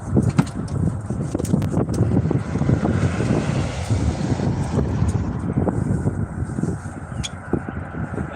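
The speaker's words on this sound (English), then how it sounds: "Very, very windy right now." Strong wind buffets the microphone outdoors beside a litter-strewn stream ditch in Texas, a steady loud roaring rush with gusty swells throughout and no voices.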